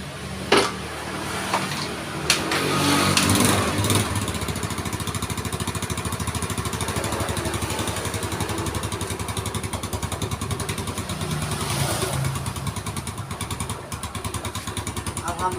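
A Yamaha Mio scooter engine, after an exhaust repair, runs steadily at idle close by, a smooth continuous putter after a few knocks and clatters at the start.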